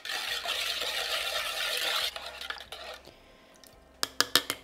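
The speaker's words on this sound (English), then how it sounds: "I'm just going to mix it until the sugar has dissolved" Caster sugar and half a teaspoon of salt being stirred into rice wine vinegar in a bowl: a steady swishing rush of mixing, then quieter scrapes and a quick run of bright spoon clinks against the bowl at the end.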